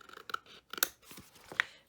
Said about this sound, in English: I can see I need to do a little trimming right here.